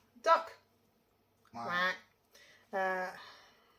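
A plastic toy duck quacks three times at close range, the first call short and sharp and the next two longer and more drawn out, with quiet gaps between them and no talking.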